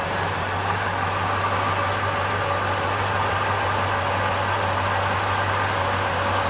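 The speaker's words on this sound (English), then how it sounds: "Purrs like a kitten, nice and smooth. Got a great idle to it, it sounds great." A 1968 Pontiac LeMans engine idles smoothly and steadily up close, a constant low rumble with an even hum and no change in pace.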